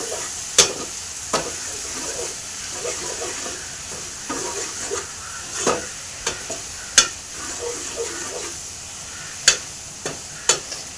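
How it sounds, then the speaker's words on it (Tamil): Chopped potatoes fry with softened tomato in a pan. A steady sizzle runs throughout, broken by repeated spoon scrapes and clatters as they are stirred. "வெட்டி வச்சுருந்த உருளைக்கிழங்கு போட்டு நல்லா கிளறி விட்டுக்கிறோங்க"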